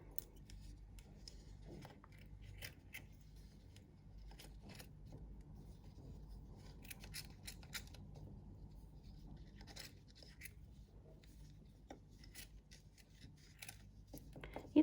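Small scissors snip repeatedly through excess velvet fabric trimmed from a glued craft heart, quiet crisp cuts in irregular bursts close by over a steady low hum.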